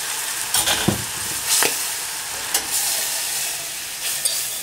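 Flour toasting in melted butter in a pan gives a steady soft sizzle with a few brief stirring scrapes, close by, and no voices.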